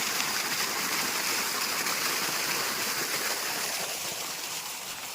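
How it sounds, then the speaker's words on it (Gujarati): A farm motor pump forces water out under pressure, producing a loud, continuous rushing gush with no pauses and no voices. "પ્રેશરથી પાણી કાઢે છે મિત્રો મોટર, જોરદાર"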